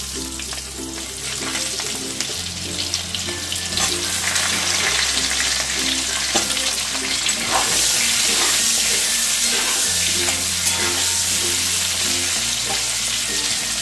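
Potatoes fry in a pan until reddish, a steady dense sizzle with occasional stirring scrapes running throughout, close and loud, with no talking.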